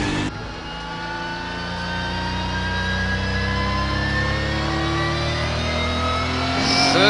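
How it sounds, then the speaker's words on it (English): A turbocharged Honda NSX accelerates hard on a racing track, its engine note climbing steadily through the gears. The sound is loud and continuous from inside or near the car, with no talk. "NSX ターボだよ。"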